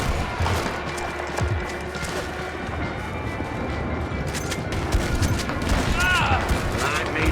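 Shotgun blasts and heavy gunfire in Red Dead Redemption 2 crack through a busy game soundscape, with several sharp reports scattered across the stretch amid clattering mechanisms, while a voice speaks underneath.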